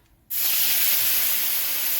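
After a brief quiet moment, a sudden loud, sustained hiss erupts as chicken broth hits a hot pan with cooked chicken and steam rushes off steadily.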